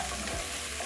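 Onions frying in oil in a pan as they are stirred, a short close burst of steady sizzle with a faint scrape, no voices.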